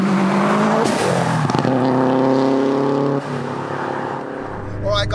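A tuned 488bhp Subaru WRX STI revs hard, engine note climbing and dropping through gear changes with sharp crackles from the exhaust, loud and close, with voices over it.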